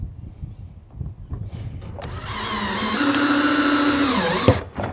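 A power drill drives a screw into a plastic flange on an IBC tote for a DIY septic system: after some handling noises, the motor whines up and holds for about two seconds, dips as it bogs, then stops.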